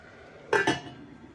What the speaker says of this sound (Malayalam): അപ്പോൾ ഞാനതിനെ ഒന്ന് മൂടി വെച്ച് വേവിക്കാൻ പോകും.